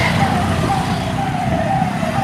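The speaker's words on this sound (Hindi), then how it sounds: "और पीछे से एक एम्बुलेंस भी आ रही है।" An ambulance siren wails as it comes up from behind on a road near Ghazipur, India, during a long cycle pilgrimage. The steady, slowly falling tone rises over heavy wind and road rumble.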